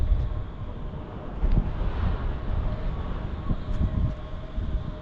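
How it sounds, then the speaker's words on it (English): Gusty wind of about 15 to 16 mph blows along the bank of the River Mersey, a steady low roar buffeting the microphone with swelling gusts throughout. "It is a bit blowy, about 15 mile, 16 mile an hour gust"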